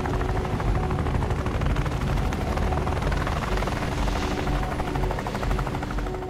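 Military helicopters in a video game roar continuously and close, a dense, loud rotor wash and engine rumble filling the whole stretch with no talking.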